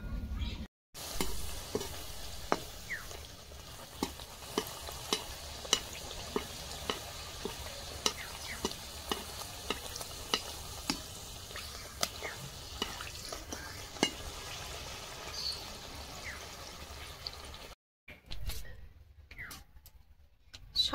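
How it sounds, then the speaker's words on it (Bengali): Madhupuri sweets frying in hot oil for a festival offering, a steady close sizzle with frequent small pops and stirring clicks for most of the stretch, cutting out briefly near the start and again near the end. "এইভাবে সবগুলো মাধুপুরি আমি ভেজে নেব।"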